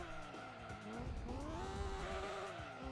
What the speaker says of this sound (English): It was faster to drift through there.